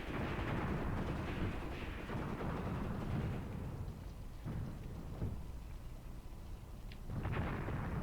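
Distant dug-in Maxim machine guns fire in a Graviteam Tactics battle at Vinyagolovo, heard as a low rumbling, booming wash of gunfire with irregular swells and a few sharper bursts, fairly faint.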